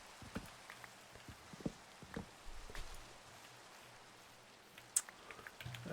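Rain falling in Minecraft, a faint, soft patter with scattered drops and light taps, no voices.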